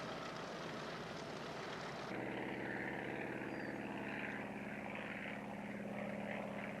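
A Mitsubishi A6M5 Zero fighter plane in flight gives a continuous droning propeller and engine roar that abruptly shifts to a deeper, smoother tone partway through, steady and moderately distant with no talk.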